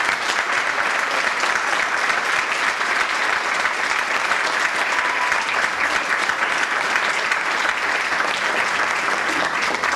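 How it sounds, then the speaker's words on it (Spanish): A crowd gives sustained, loud applause at a Partido Justicialista candidate presentation in Bragado. The clapping is dense and even, filling the space without pause. "Y recibimos con un fuerte aplauso al compañero que va como precandidato en el primer lugar"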